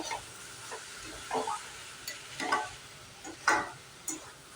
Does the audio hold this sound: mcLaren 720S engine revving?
no